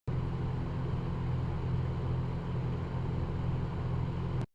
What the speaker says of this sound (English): I think you might recognize that as a microwave